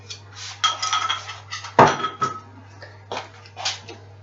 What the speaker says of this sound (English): just scrape that into our bowl